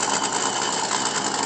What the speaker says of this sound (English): Jenna, fire up engine number 1. Wheels twin mill is powered by 2 full-house Hemi engines that are supercharged and fuel injected.